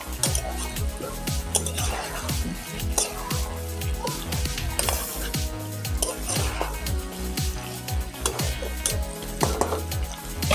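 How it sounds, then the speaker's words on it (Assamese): Meat and fried potatoes being stirred in a pan, with repeated scraping and clinking of a utensil against metal over a steady sizzle, close and continuous. "দি অলপ মিক্স কৰি দিম।"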